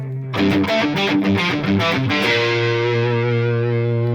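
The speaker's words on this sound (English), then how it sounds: "Let's turn the neck all the way down so you hear what the bridge by itself sounds like." A distorted electric guitar on the bridge pickup alone plays a quick, choppy riff of short picked notes, then lets a final chord ring out and sustain loudly.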